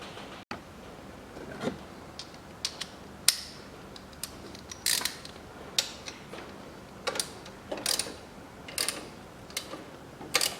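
Drive belt tensioner being released and its lock worked on a Peugeot 408 1.6 engine, giving a string of sharp metallic clicks and ratchet-like snaps spread irregularly, close up and alone.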